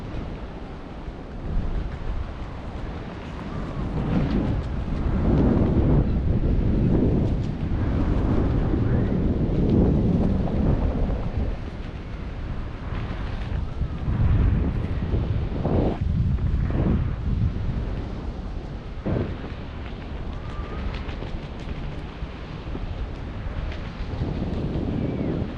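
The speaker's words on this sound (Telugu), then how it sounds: "గాలి బాగా ఉంది." Strong wind roars over the ocean off Ocean City, New Jersey, during parasailing, buffeting the microphone in heavy, continuous gusts over faint surf.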